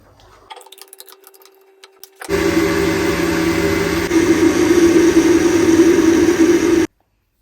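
An electric mixer grinder runs steadily, grinding raw turmeric and tomatoes into a fine paste: a loud continuous motor whir that starts abruptly after a few quiet seconds and cuts off sharply at the end.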